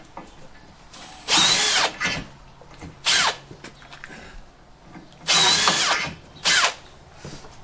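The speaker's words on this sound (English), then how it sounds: "Again, drilling a hole through a hole." Bursts of a power drill whirring at high speed while drilling holes for galvanised water tank braces on a Toyota Coaster bus conversion, four separate runs of a second or so each, close by with quiet pauses between.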